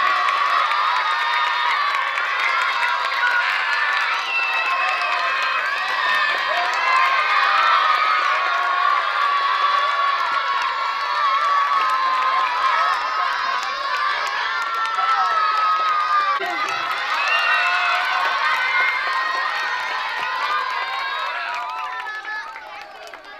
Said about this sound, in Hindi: बजाइए तालियां, गूंजती रहे तालियां